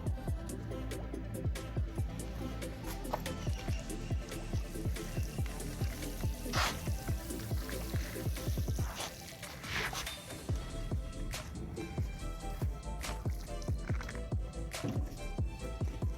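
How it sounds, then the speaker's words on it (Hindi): Water trickles and drips onto soil in plant pots, uneven splashes and dribbles at close range, fairly quiet, with a short pause midway before the pouring resumes. "ये ले प्यारे दोस्तों, इनको हमने पानी लगा दिया है।"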